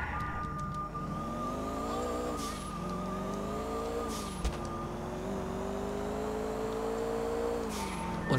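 A VW Scirocco drives in GTA IV with a steady engine hum that rises and falls as it shifts and revs, and a faint thump partway through.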